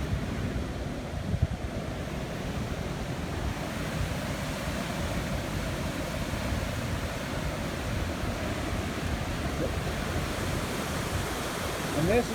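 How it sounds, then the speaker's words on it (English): Waterfall with a heavy flow of rushing water, heard from just above the falls as a loud, continuous broadband roar with no break. "We'll come on over here, up above the waterfall"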